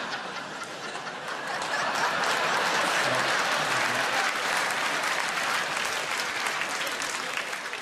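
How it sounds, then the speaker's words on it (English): Dense, sustained applause fills a large theatre at the Royal Variety Performance, swelling after a couple of seconds into a steady roar of many hands with a few scattered laughs. "Good job you clapped."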